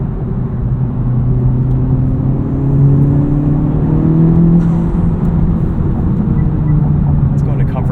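A 2023 FL5 Honda Civic Type R fitted with a Cobb Redline carbon fiber intake drones from inside the cabin while driving. Its engine tone rises and falls through quick rev-matched shifts.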